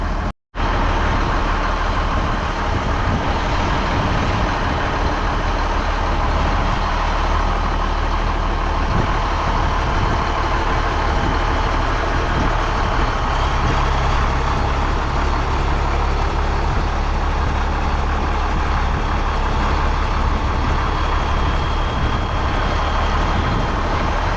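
An Allis-Chalmers 8070 tractor engine runs at a steady, loud idle-like drone for the whole stretch, close by and alone without talk.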